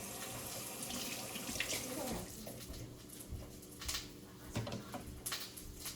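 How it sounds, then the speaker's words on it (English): Water runs steadily from a kitchen tap while something is rinsed under it during preparation of a cheesy taco skillet meal, with a continuous splashing rush and faint voices in the background. "I'm over here rinsing something off"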